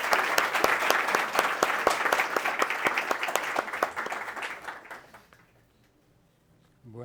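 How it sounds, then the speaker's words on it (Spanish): Audience applause for a lecturer at a Buddhism talk, a dense steady clapping from the hall that swells, holds for about five seconds, then tapers off into near silence before a voice begins at the very end. "Por favor, un gran aplauso para el profesor Dr."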